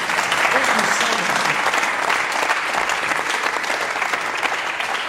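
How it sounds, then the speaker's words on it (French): Audience applause on a French television talk show: loud, sustained clapping from a studio crowd that holds steady throughout, with a few voices faintly mixed in. "on applaudit Tin Machine"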